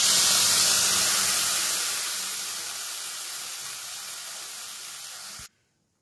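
Boiled moong dal poured onto fried vegetables sets off a loud, steady hissing sizzle that slowly eases off before cutting out suddenly.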